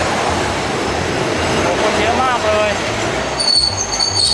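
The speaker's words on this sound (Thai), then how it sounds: "รถไฟเรามาแล้ว" A train rumbles steadily as it pulls in, with a brief squeal of wheels and a high tone near the end; voices murmur faintly in the background.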